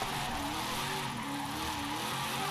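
Rear-wheel-drive car in Forza Horizon 5 spinning out after the driver lifts off, lets revs drop, then reaccelerates; steady loud engine drone with tyre skid and squeal running the whole time, no talking.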